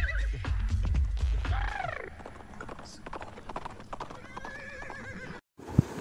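Comedy sound effect of a horse: rapid clip-clop hoofbeats followed by loud neighing and whinnying, then a short pause and a final sharp hit.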